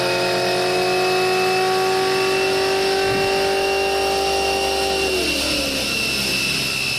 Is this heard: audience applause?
no